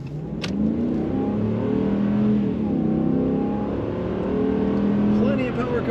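A 2021 Ram 2500 Tradesman 4x4 pickup's engine revs up and holds a strong, rising drone, swelling and easing in waves close by, with someone talking over it.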